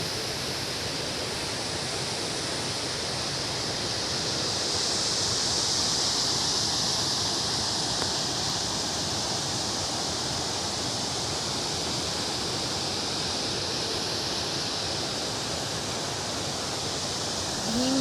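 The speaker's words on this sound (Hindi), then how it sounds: "तो यहाँ पे पार्वती झरना यहाँ पे है, तो आप देख सकते हैं।" Parvati waterfall on the Shrikhand Mahadev trek roars as a loud, steady wash of falling water, constant and close throughout with no voices.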